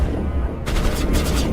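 Rapid bursts of gunfire ring out in the Mass Effect video game, a quick rattling volley that starts suddenly after a brief lull.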